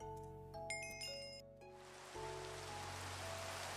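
Steady rain hisses across a Minecraft world in the Nomifactory modpack, a continuous soft wash of falling drops that sets in after a few seconds of tonal game chimes.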